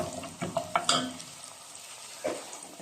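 Ginger and garlic fry with browning onions in a pan for butter chicken, a close, steady soft sizzle broken by several quick stirring scrapes and clinks near the start and one more later, with no talking.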